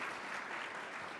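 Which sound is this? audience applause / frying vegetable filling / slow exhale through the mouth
audience applause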